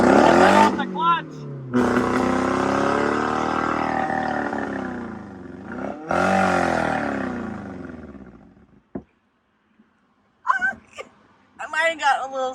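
A learner pulls away in a manual car with a worn, smelly clutch: the engine revs rise and fall loudly for several seconds, then cut out, followed by a silence and brief scattered sounds.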